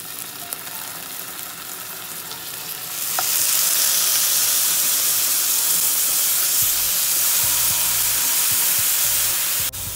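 Fish fillets dropped into a pan with a spoonful of oil, a loud steady sizzle and hiss that jumps up a few seconds in and holds, with faint clatter underneath and no voices.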